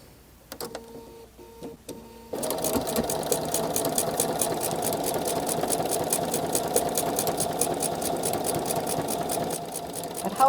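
A sewing machine stitches a quilt in a steady, fast mechanical rattle that starts after a few brief clicks and runs loud and continuous to the end.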